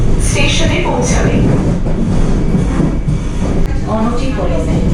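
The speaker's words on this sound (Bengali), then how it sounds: "এই ট্রেনটি শীঘ্রই নিউ কোচবিহার স্টেশনে পৌঁছাবে।" A Vande Bharat Express runs from New Jalpaiguri toward Guwahati in the monsoon, heard from inside as a loud continuous rumble and rattle of the coaches, with voices talking over the noise.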